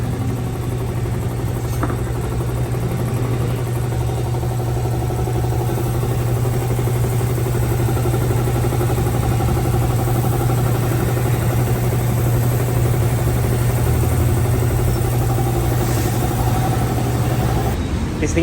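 A Honda Civic idles with a newly installed muffler, a steady low hum with a constant drone running evenly and close for the whole stretch.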